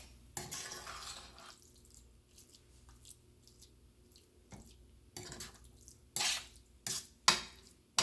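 Fish marinade gets mixed by hand in a bowl, making quiet wet squishing and stirring sounds with a few louder clinks and scrapes against the bowl toward the end.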